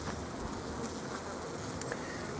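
Honeybees in a heavily populated colony buzz steadily at the open hive during March wintering checks, a dense, continuous drone close by with no voices over it.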